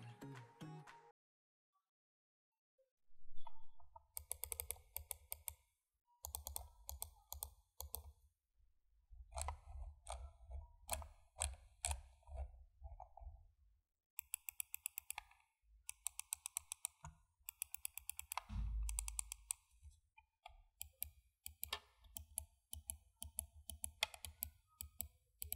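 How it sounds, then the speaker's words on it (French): Rapid bursts of crisp plastic button clicks from an Aukey GM-F1 gaming mouse, close and dry, in irregular clusters with brief pauses and no talking. "laissez-moi vous faire un test sonore rapide pour savoir ce que ça donne quand on clique"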